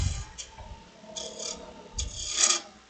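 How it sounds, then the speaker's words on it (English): A roughing gouge shear-scraping a wooden snowman turning on a lathe, giving soft intermittent rasping scrapes in short bursts over a quiet background. "I'm just doing some kind of shear scraping with the roughing gouge here"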